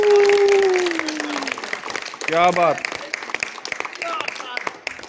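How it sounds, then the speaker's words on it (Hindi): An audience applauds at a wrestling event in a brief, loud burst of clapping beneath someone speaking loudly, with crowd noise and shouting voices mixed in. "ताली लगाइए सर, ताली लगाइए।"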